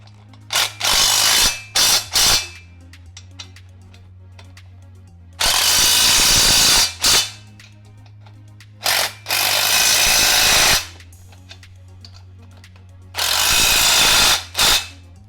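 Power tool driving and tightening bolts while assembling a Vevor transmission jack, heard as several loud bursts of whirring, some brief and some lasting over a second, separated by quiet pauses, with no talking.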